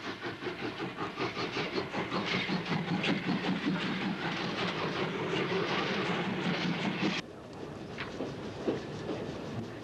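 Train hauling up a steep mountain pass in Hokkaido, with dense rumbling, hissing and clattering noise that stays loud and steady, then drops abruptly to a quieter, thinner running sound near the end.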